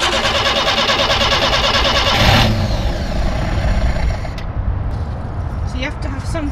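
Nissan Micra K10 engine running after auto choke adjustment, a steady loud mid-range drone with a slight swell in revs partway through, heard close up without speech.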